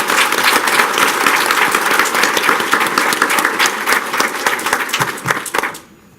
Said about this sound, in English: Can we please give them a round of applause for being here?